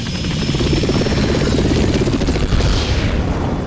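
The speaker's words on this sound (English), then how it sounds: "A Hind D. Colonel, what's a Russian gunship doing here?" A Russian Hind D gunship helicopter from Metal Gear Solid: The Twin Snakes thunders with a loud, steady rotor chop and engine roar that fills the whole stretch without pause.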